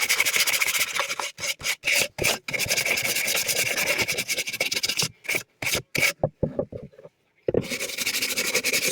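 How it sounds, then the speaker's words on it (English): Deer antler being sanded by hand with 220 grit sandpaper, a close, loud raspy scraping in quick back-and-forth strokes, with short bursts separated by brief pauses and a silent gap before the rubbing resumes. "I'm going to take the 220 grit and start sanding."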